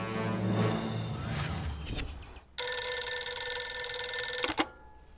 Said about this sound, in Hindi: मानव, कमिश्नर सर को फोन लगा।